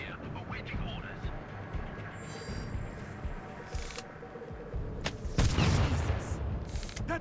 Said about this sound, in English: That was an explosion! Explosion nearby!